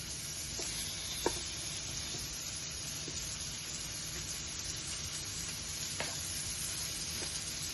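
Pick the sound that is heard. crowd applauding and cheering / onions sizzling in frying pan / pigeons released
onions sizzling in frying pan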